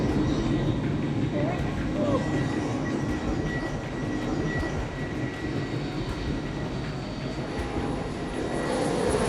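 Constant loud roar of a C-5 Super Galaxy military airplane taking off, heard from inside the aircraft as a dense, unbroken rumble throughout, with faint voices underneath.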